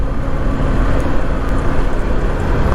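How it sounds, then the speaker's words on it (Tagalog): An airplane passes low overhead on approach to land, a loud, steady broadband roar and rumble that fills the whole stretch without any voices. "Ba, aeroplano, oh."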